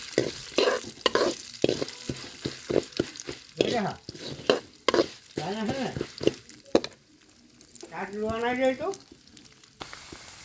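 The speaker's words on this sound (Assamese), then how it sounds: "চাউলখিনি এতিয়া মই অকণমান দেৰি ভাজি লওঁ।" Rice grains fry in oil in a pan while being stirred, producing soft sizzling and scraping that comes and goes beneath someone speaking over most of it.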